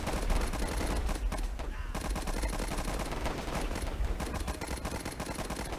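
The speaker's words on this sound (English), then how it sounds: "Oof, they got an MG." Sustained machine gun fire from the Warfare 1917 flash video game, rapid continuous bursts of shots filling the whole stretch with dense, steady crackling and little pause.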